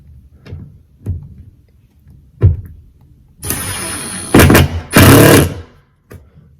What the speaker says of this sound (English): I'm going to turn them in with, you can use a regular screwdriver, or you can use a drill driver.